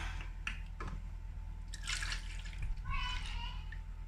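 A homemade yogurt mixture is poured into drinking pouches, giving faint, soft trickling and dripping over a low steady hum, with a few light splashy bursts.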